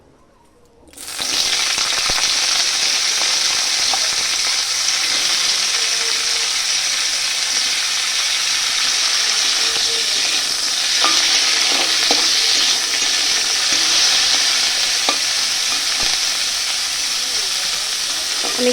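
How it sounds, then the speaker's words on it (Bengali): Cauliflower frying in oil in a wok gives a loud, steady sizzle that runs unbroken from start to finish, with scattered clicks of stirring over the hiss. "এবার কড়াইতে তেল দিয়ে আবার ফুলকপিগুলো ভেজে নেবো"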